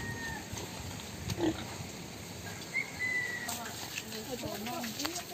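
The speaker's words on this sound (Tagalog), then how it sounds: "Daming pigs. Let's see this." Pigs on a farm grunt and snuffle in short, scattered bursts over steady background noise, with voices faintly present.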